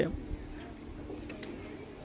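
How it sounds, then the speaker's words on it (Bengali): Pigeons, including kalsira and kaldom types and young birds, cooing softly at a pigeon seller's, low murmuring calls carrying on under a voice throughout. "আপনার অনেক ধরনের পায়রা আছে কালসিরা পায়রার বাচ্চা আছে কালসিরা আছে কালদম পায়রা আছে"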